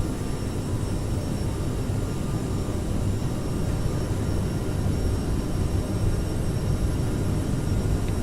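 A CRJ700 regional jet in Microsoft Flight Simulator rolling down the runway at takeoff power, a steady loud engine roar with a broad rumbling low end and whining high tones, unbroken throughout.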